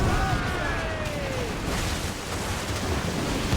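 Ship-mounted mortars fire during a naval battle in the Assassin's Creed Rogue video game, a deep rumbling boom rolling out over a wash of wind and sea noise, with faint whistling tones drifting down early on.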